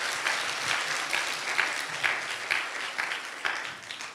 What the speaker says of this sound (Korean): 박수 한번 쳐드립시다.